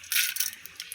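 Mustard and fenugreek seeds hit hot sesame oil for a fish curry, giving a sharp, close hiss and crackle that flares at once and then settles into scattered popping.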